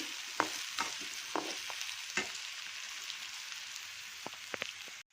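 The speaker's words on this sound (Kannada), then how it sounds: "ಇದು ಸ್ವಲ್ಪ ಫ್ರೈ ಆಗಲಿ ಎಣ್ಣೆ ಒಳಗಡೆ." Spices frying in oil for a bisibele bath tempering, a continuous close sizzle broken by several sharp scrapes and taps of a spoon stirring against the pan, ending abruptly.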